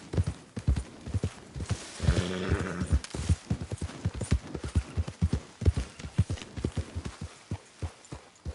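Horse hooves galloping in Red Dead Redemption 2, a fast, steady clip-clop of hoofbeats close by, with a brief snort or whinny early on; no talking.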